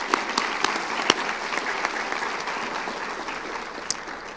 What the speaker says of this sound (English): let's applaud everyone who made this happen tonight